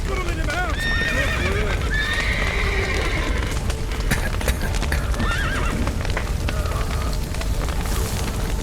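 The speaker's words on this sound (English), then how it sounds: "Horses! Gotta let him out!" Horses neigh and whinny over the steady clatter of hooves in The Witcher 3: Wild Hunt, with crackling fire and shouted voices from a burning stable scene running throughout.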